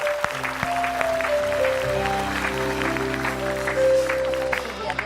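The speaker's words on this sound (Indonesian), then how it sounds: "Boleh kita berikan tepuk tangan sekali lagi" Audience applause fills a Mother's Day celebration show, a steady broadband wash of clapping with a voice speaking over it and some sustained tones underneath.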